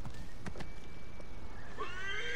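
A horse in Assassin's Creed Origins gives a short whinny near the end, preceded by a few faint hoof clops, all fairly quiet under a constant ambient wash.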